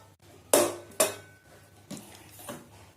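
A pressure cooker lid is opened after the pressure has been released while a vegetable kurma is being cooked. Two sharp metallic clanks come close together, followed by two softer knocks over a low steady hum.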